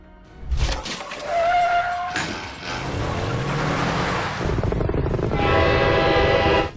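Loud train horn from the film Super 8, set in 1979 small-town Ohio, blaring sustained blasts over the heavy rumble and clatter of the approaching train, building into a dense roar.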